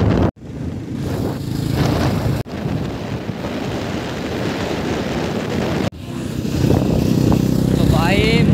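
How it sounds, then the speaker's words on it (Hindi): A motorbike riding along a forest road on the way to Nainital, heard as a steady close engine drone mixed with heavy wind buffeting on the microphone, with brief cutouts and a voice speaking in places. "ये देखना तो बाइक चल रही है"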